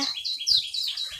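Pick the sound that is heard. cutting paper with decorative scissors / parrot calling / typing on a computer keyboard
parrot calling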